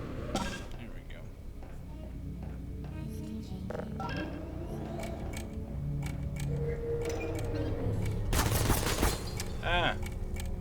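Turrets in the Portal video game fire rapid gunshots in scattered bursts. The fire builds to a loud dense volley near the end, mixed with a player talking.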